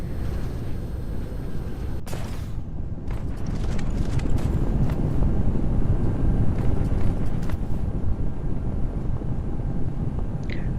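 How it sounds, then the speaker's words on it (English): Smelters in the game Dyson Sphere Program give a steady roaring, crackling rush like furnace fire, loud and continuous, with a few sharp clicks on top. "It sounds like a furnace, like fire."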